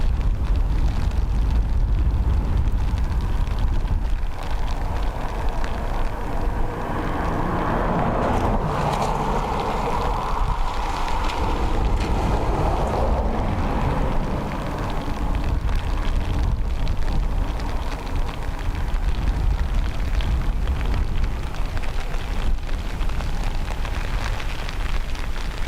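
Rain and gusting wind sweep across an outdoor spot at Dublin Airport, a dense, steady roar of drops and wind buffeting close by, filling the whole stretch with no voices.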